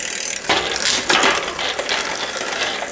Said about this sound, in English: It just is gonna rub in the high gears.